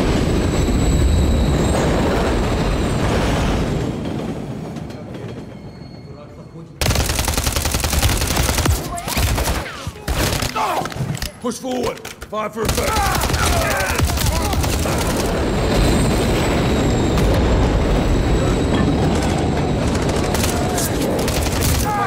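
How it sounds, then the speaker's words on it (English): Trains rumbling past amid heavy gunfire in a Call of Duty: Modern Warfare III campaign mission, a loud continuous roar with a brief drop partway through, bursts of shooting and voices calling orders. "Watch the trains."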